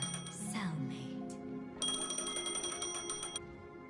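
A loud phone ringing in the video game Honkai: Star Rail comes as a bright electronic tone followed by a rapid, trilling ring that repeats for about two seconds.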